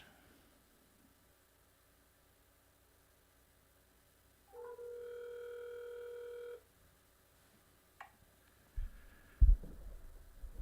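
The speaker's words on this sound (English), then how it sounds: "I'll call Kevin back" A telephone dial tone, steady and electronic, sounds alone for about two seconds during a radio call-in show, preceded by faint quiet and followed by a brief click and a few low thumps of handling noise.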